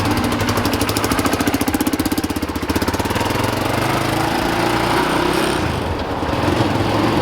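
A quad ATV engine with its stock tailpipe gutted runs loud and close, giving a raspy, rapidly pulsing exhaust note that rises and settles slightly as the throttle shifts.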